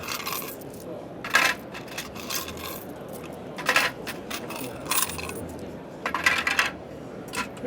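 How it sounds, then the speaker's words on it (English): Coins drop out of an ATEC coin drawer and are poured into a cash till, with several bursts of metallic clinking and jingling close by and no talking. "You'll hear the coins coming out of the coin drawer to my right"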